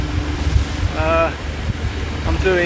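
Wind blows over a sailboat in about 20 knots of breeze while it motors along. There is steady rushing wind and water noise close to the microphone, and someone speaks briefly over it.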